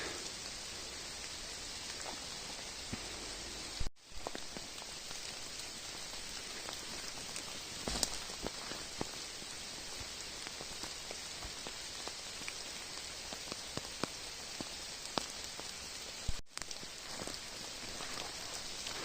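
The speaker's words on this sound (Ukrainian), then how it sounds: "Ну а тепер в обід пішов такий дощик." Steady rain pattering on leaves in a Carpathian forest in April, a dense continuous hiss with scattered louder drips, close and even throughout, with no voices.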